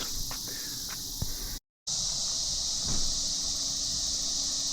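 Cicadas chirp outdoors in America as a loud, steady high-pitched drone that runs through the whole stretch, briefly cut out once, with faint scattered clicks and knocks underneath.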